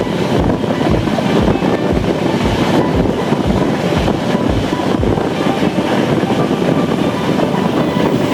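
A Chennai Shatabdi express hauled by a WAP7 electric locomotive running at about 110 km/h, heard from onboard as a loud steady roar with a fast regular beat of wheel clicks over rail joints.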